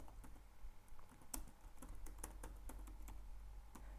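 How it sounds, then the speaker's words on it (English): Keys clack on a computer keyboard in a quick, uneven run of close, faint taps with brief pauses, over a low steady hum. "So here in browser, you are supposed to type"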